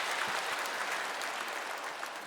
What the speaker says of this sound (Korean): 하나님 앞에 감사 영광의 박수 다시 한번 드리겠습니다